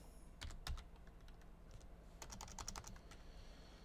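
Faint, sparse computer keyboard typing, a few scattered clicks and a short cluster of keystrokes over a low background hum, with no voices.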